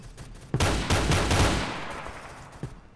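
Loud close-range gunfire from the player's own weapon in Roblox Phantom Forces, a quick volley of sharp shots that decays into a long ringing tail, with one more crack near the end.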